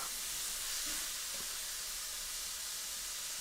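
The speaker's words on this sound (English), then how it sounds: "you can hear it sizzling back there." A steady, faint hiss of spaghetti sizzling in a pan fills the clip, soft and distant, with no talking.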